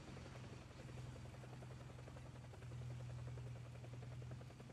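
Helicopter in the video game War Thunder, a steady faint rotor drone with a continuous low hum and fast rhythmic chopping, heard alone throughout.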